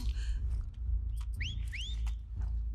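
Enemy whistling in The Last of Us Part II: two clear rising-falling whistle calls in quick succession, loud and fairly close, over a low rumbling game ambience.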